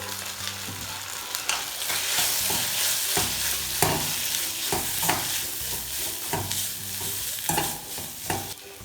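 Chicken paratha filling with tomato sauce frying in a pan, a continuous hissing sizzle broken by repeated scraping stirs from a spoon, close and moderately quiet.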